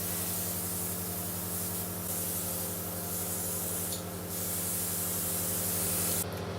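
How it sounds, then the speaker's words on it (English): A makeup airbrush sprays foundation during a bridal makeover, giving a steady close hiss of air over a constant low compressor hum, with brief louder bursts. "So that's my airbrush done"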